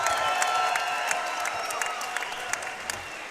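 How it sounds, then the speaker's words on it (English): An MMA event crowd at Shamrock FC gives both fighters a round of applause: dense, steady clapping from a large audience with scattered cheers, heard at a moderate distance without talk. "let's give both of these fighters a big round of applause"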